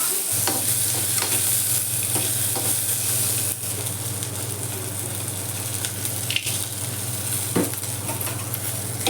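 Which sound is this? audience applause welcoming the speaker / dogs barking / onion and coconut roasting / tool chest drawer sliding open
onion and coconut roasting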